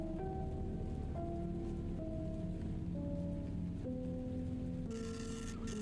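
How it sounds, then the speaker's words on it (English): Steady rain patters continuously under soft, sustained piano notes in a video game, the melody stepping slowly through held tones while the rainfall hiss stays even throughout, with no voices. "Ah, soothing rain and piano noises."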